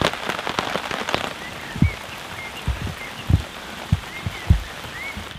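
Heavy rain falls steadily on a surface outdoors during a camping trip in the Netherlands with a Jeep Cherokee XJ, a constant patter broken by louder irregular drips and taps nearby.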